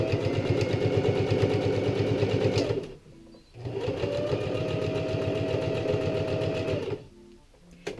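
A sewing machine runs in two steady bursts of rapid, even stitching through denim while setting a jean fly zipper, with a brief pause between runs and a short low rattle at each stop.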